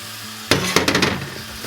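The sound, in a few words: beef rump steak frying in rice bran oil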